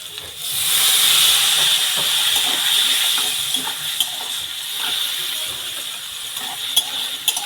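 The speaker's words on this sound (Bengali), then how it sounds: "সরষে জিরে বাটা দিয়ে দিলাম, একটু নাড়িয়ে তারপরে জল ঢেলে দেবো।" Mustard and cumin paste sizzles and hisses steadily in a hot pan while being stirred, a close, continuous frying sound with faint scraping, loudest early then settling.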